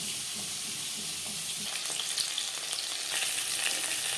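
Salted chopped onion hits the oil left from frying rui fish with a continuous close, bright sizzle that swells slightly in the later seconds.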